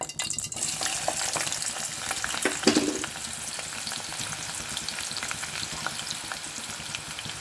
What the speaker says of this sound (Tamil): ஃப்ரை ஆனியனுக்காக நம்ம ஆனியன் போட்டுக்கிறோம்.